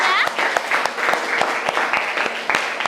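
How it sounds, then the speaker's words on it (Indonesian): Students in a classroom at SMAN 1 Mengwi, Bali, clap together in a lively, fairly close burst of applause, a few sharper individual claps standing out, with a voice briefly heard at the start. "Tepuk tangan dulu buat kalian semuanya."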